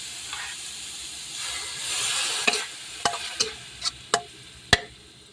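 Water splashes into a pan of ground pork stir-fry, raising a brief hissing surge of steam, then several sharp spatula knocks and scrapes against the pan ring out close by.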